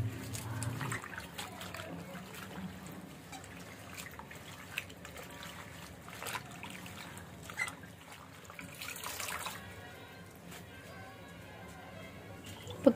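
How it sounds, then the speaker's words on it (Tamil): Mullu murungai greens being rinsed in water two or three times, with soft trickling, dripping and sloshing sounds running steadily at moderate to low level in a home kitchen. "இப்போ நம்ம ஆஞ்சு வச்சுருக்க அந்த கீரையை நல்லா ரெண்டு மூணு தடவை கழுவி எடுத்துக்கலாம்."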